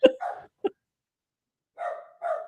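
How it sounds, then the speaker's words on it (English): A dog barks in short, sharp bursts: a quick cluster of barks, a pause of silence, then two more close, loud barks. "Dog's barking."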